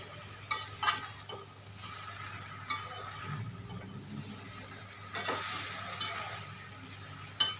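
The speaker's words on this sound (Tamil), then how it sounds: "எல்லா ப்ரெட்லேயும் படுற மாதிரி நம்ம நல்லா அதை வந்து மிக்ஸ் பண்ணி விடணும்" Bread pieces tossed with masala in a pan, with intermittent scraping and clinking of a spoon against the pan over a faint low sizzle, fairly quiet and close.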